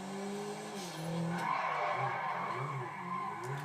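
Tires skid and squeal as a car drifts in GTA 5, with a steady engine drone and a sliding screech that swells midway and holds. It plays continuously with no talk over it.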